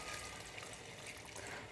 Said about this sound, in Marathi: आणि त्याच्यामध्ये ना आता परत थोडंसं पाणी टाकायचं आपल्याला